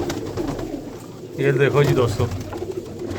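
Pet pigeons coo at night in a large rooftop pigeon setup, soft throaty burbling rising in the middle while someone talks over it.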